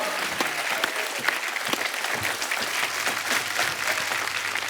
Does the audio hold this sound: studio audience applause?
yes